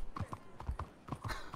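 Horse hooves clip-clop in a quick, rhythmic pattern at moderate volume in the video game Red Dead Redemption 2, a horse moving at pace, with no voices over it.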